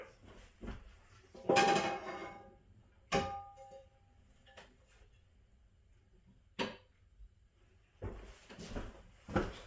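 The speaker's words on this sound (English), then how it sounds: "I gotta go get a pan to be able to cook with" Kitchen rummaging while fetching a cooking pan: several separate clatters and knocks of cookware and cupboard or drawer movement, moderately close, with quiet gaps between them and no talking.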